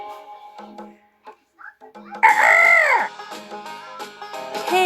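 A chicken clucks in short bursts, then one loud, rising and falling crow-like call stands out over light background music, with a few more clucks near the end.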